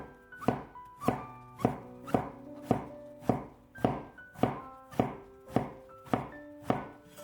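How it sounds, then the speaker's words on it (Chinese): A knife chops peeled eggplant into thin strips on a cutting board, about a dozen crisp, evenly spaced strokes in a steady rhythm, close and clear with no talk. "再改刀切成细丝"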